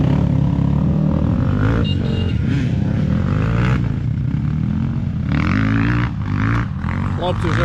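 Motorcycles pulling away on a wet forest off-road trip in Zakarpattia, engines revving and roaring steadily and loudly close by while voices talk over them.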